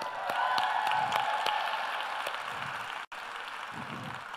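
Audience applause at a live event, a steady wash of clapping from a moderate-sized crowd that thins and briefly drops out near the end before faint clapping resumes.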